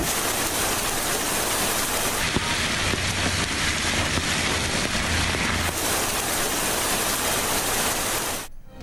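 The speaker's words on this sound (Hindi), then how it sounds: "इस्लामाबाद में गरज चमक के साथ सर्दी की पहली बारिश। बादल जमकर बरसे।" Heavy rain pours down in Islamabad during the first winter downpour, with thunder and lightning reported. A dense, steady hiss of rainfall fills the clip from start to finish, with no voices.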